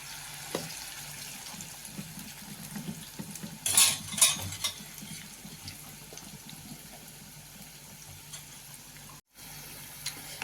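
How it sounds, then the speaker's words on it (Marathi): Cabbage vadas frying in oil over a low flame, a soft steady sizzle with brief louder clatters of utensils against the pan partway through. "मंद गॅसवरच आपण तळालेलो आहे"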